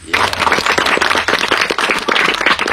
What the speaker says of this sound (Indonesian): Siap, tepuk tangan